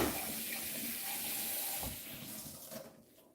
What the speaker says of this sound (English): I can rinse off my hand.